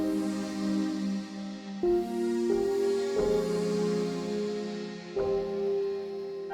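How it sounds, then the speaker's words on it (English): A lo-fi German piano layer from the Lofi Keys instrument plays a sparse run of struck notes, each ringing and decaying before the next, soft and mellow with no voices. "One layer of the lo-fi German piano."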